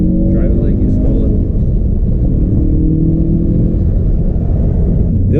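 A Ford Focus RS turbo engine drones loudly and steadily while driving, a dense low rumble with sustained tonal lines that shift slightly in pitch throughout.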